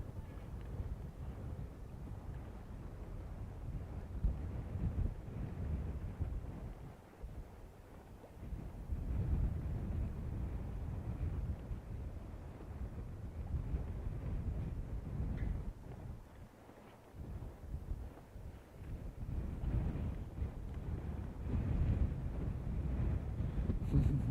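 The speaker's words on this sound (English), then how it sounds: "definitely windy out here." Steady wind on Florida's Space Coast buffets the microphone, a continuous low roaring rush that swells and dips in gusts throughout.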